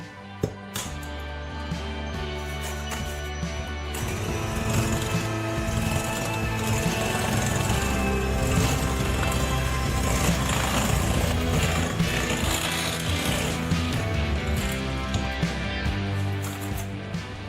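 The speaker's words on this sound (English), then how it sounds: "lower the speed of the mixer and add the eggs one at a time" An electric mixer runs at medium speed through pound cake batter as eggs go in one at a time, a steady motor whir with rhythmic beater clatter continuing throughout, close and fairly loud, with no talking.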